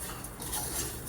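Salt being stirred into rice browning in a pan for Mexican rice, a steady close scrape and clink of a utensil against the pan with a soft background hiss, no talking.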